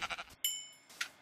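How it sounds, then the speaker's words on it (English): Sheep bleating in a video game: a short choppy burst, then a sustained, clear, fairly loud bleat, followed by a brief fainter call. "Kill the sheep, but"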